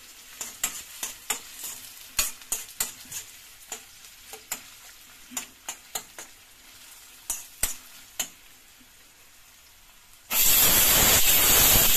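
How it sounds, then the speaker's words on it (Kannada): Sliced onions frying in oil as a garnish for mushroom biryani, a quiet sizzle punctuated by a regular series of sharp spatula scrapes and taps, then a sudden loud hissing roar near the end. "ಈಗ ಗಾರ್ನಿಶ್ಗೆ ಈರುಳ್ಳಿ ಫ್ರೈ ಮಾಡ್ತಾ ಇದ್ದೀನಿ"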